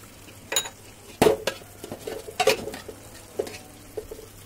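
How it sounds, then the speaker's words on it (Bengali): A spoon stirs chilies in tamarind water for a pickle, giving soft scattered clinks and wet swishes against the pot, close and fairly quiet, with no talking. "মরিচগুলোকে একদম ডুবিয়ে ডুবিয়ে নাড়তে হবে।"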